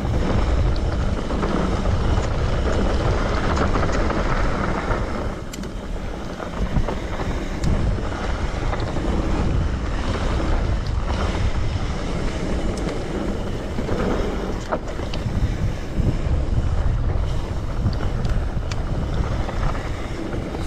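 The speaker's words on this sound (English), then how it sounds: "So windy here and cold." Strong, cold wind at an alpine mountain-bike park in Cardrona, New Zealand, roars and buffets the microphone continuously for the whole stretch, a loud rumbling rush with gusty surges and no voices.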